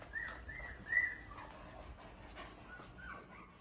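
Young puppies give faint, high whimpers in a few short bursts near the start, followed by soft, quiet panting and snuffling, all low in level with no talking.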